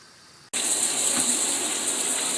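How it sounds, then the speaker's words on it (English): A shower suddenly turns on and runs steadily onto a cat's head, giving a close, loud, continuous gush of spraying water with no talking. "our cat Peter likes water running on his head"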